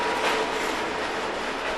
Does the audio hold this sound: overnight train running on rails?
yes